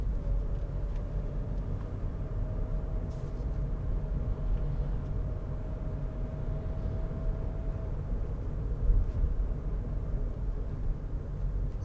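Steady low road rumble and hum inside a 2020 Suzuki Swift SZ-T mild hybrid driving slowly, with a faint steady tone for several seconds and occasional light knocks, continuous and moderately quiet with no talking.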